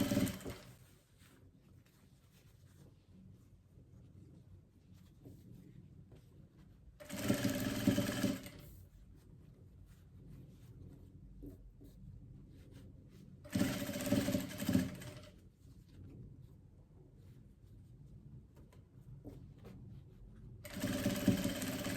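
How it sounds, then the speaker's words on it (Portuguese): A sewing machine stitching fabric in three separate bursts of rapid mechanical whirring, each a second or two long, close by, with quiet pauses between them. "Vou passar aqui a costura."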